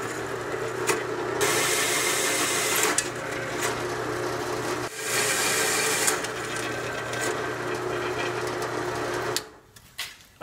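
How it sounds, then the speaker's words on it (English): A drill bores holes through a steel down tube for a drift trike frame, a loud continuous grinding whir with short pauses and shifts in pitch, stopping near the end. "got all the holes drilled in the down tube"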